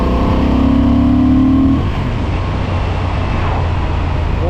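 A Honda Transalp 750 A2 motorcycle from 2025 accelerating, its engine note loud and steady with a rising tonal drone that fades after about two seconds into a broad rushing road and wind roar.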